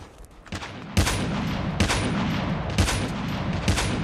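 Gunfire in a shooter video game using an M4 loadout, heard as a few loud sharp shots spaced about a second apart over continuous rumbling background noise, with no talking.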